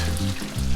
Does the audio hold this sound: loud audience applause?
no